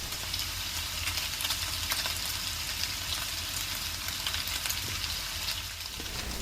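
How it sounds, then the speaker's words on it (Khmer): Pork belly pieces spread across a pan sizzle in a steady, close hiss with faint crackles, continuous and alone without any talking. "Spread the meat over the surface of pan. Let it cook for 6 minutes."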